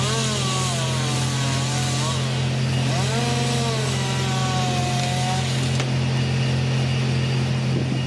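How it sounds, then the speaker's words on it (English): A compact chainsaw roars steadily while a worker fells trees, the engine droning loud and close for the whole stretch, rising and falling slightly in pitch as it cuts, with a voice talking over it. "In his hand is a compact chainsaw, roaring loudly."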